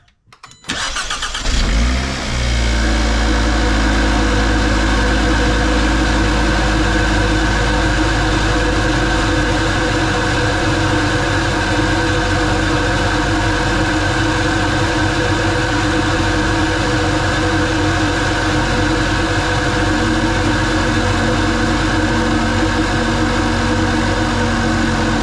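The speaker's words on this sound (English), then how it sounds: "let's finally get what I've been waiting on, and that is the first start, and just hear this intake." A Hyundai Elantra N fitted with a Titanium Whoosh Motorsports intake cranks and fires, settling into a loud, steady idle with a constant intake drone, close up and with no talking.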